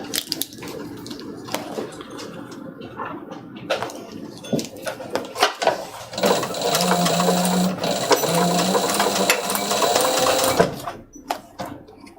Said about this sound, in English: We're going to just stitch the perimeter right on that edge.